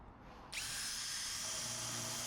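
A power drill whirs up abruptly and runs at a steady high-pitched whine, close and loud, with no talking.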